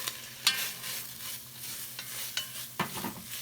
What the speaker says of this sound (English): now time to throw our onions